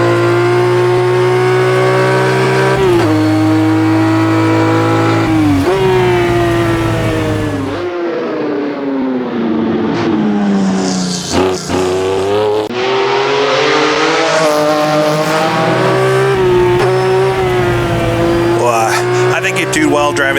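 A Ferrari Dino race car engine in the Assetto Corsa racing game howls loud and close, climbing through the revs, dropping on shifts and dipping under braking, with someone talking over it.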